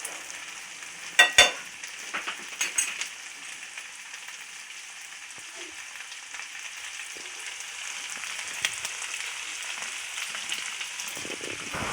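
Food frying in a pan in a home kitchen, with a steady soft sizzle and crackle throughout and a few louder clinks or stirring knocks early on, heard alone without talk.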